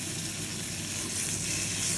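Thick duck breast searing in a pan on an induction hob, a dense, steady sizzle of frying fat, close and continuous with no pauses.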